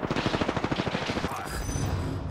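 Rapid automatic gunfire in the Apex Legends battle royale video game, a steady stream of shots for about a second and a half, then a denser mix of game effects as a squad fights inside a building.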